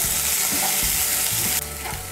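Chopped medium-sized onion frying lightly in a pan, giving a steady close sizzle with bursts of stirring scrapes, and no voices.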